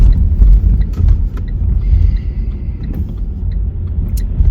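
A car driving before dawn in pitch darkness, heard from inside as a steady, loud low engine and road rumble with a faint high whine briefly riding on top.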